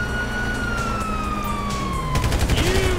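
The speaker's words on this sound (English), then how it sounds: "you hear that? Sirens!" A police siren in the video game GTA V wails steadily, then breaks into a rising yelp, with a loud burst of rapid gunfire-like noise near the end.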